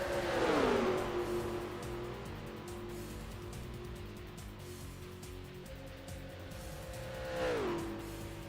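Race cars in the NASCAR Racing 2003 game at Daytona Superspeedway roar past, with a loud engine drone and a pitch-sweeping pass near the start and another near the end, damaged cars running steadily in between.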